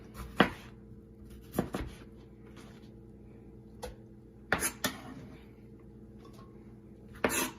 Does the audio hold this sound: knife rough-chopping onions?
yes